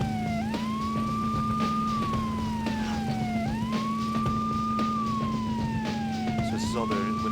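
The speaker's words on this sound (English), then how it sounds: "When he's using the siren, the other cars will stop." Police car siren in the video game Beetle Adventure Racing, wailing in steady repeating up-and-down sweeps over a constant engine drone, with no talk.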